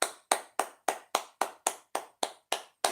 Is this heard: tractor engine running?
no